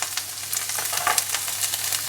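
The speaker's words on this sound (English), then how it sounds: "hear that sizzle" Steady crackling sizzle of onion frying in a hot pan, with bright spitting pops scattered throughout, close and fairly loud, no voices.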